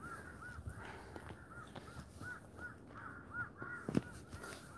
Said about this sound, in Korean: 까마귀처럼.